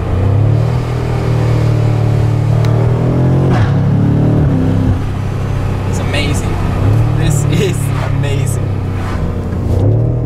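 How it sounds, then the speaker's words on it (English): A 2018 BMW M5 F90 with four-wheel drive is driven hard, its engine droning loudly and rising in pitch through quick gear changes, with brief dips between shifts and a voice faintly present over it. "And again, the sound of this car."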